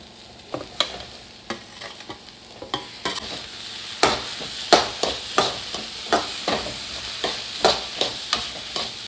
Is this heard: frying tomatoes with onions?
yes